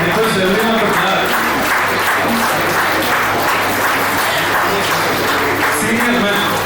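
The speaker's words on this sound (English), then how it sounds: "I request everyone to clap." An audience at a Rotary Club youth prize distribution claps steadily, a loud, even wash of many hands lasting throughout with a faint voice mixed in.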